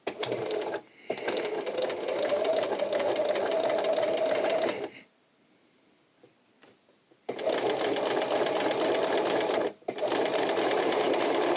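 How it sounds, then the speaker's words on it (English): A sewing machine top stitches through four folded fabric layers, running in loud, steady whirring bursts with a brief stop and a longer quiet pause between them. "we're going to just top stitch all those 4 layers together"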